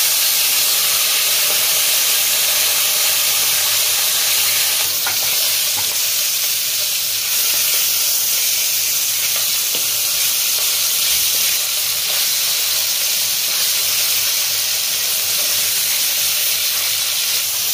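Koi fish frying in hot oil while being turned, a loud, steady hissing sizzle that runs unbroken for many seconds with faint scraping knocks, close by and without speech.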